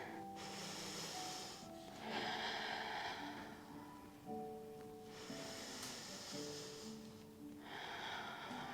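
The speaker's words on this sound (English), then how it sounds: "Take 3 deep breaths." Slow, deep yoga breaths during a stretching flow, each long airy inhale and exhale rising and fading in a steady rhythm, close and fairly quiet, with no talking.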